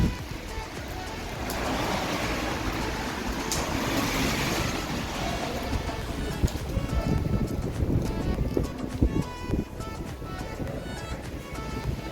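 Strong wind gusts buffet the open air on a rainy day in Bristol near the university, a steady broad roar with rushing surges that runs throughout, loud and close, with no clear talk.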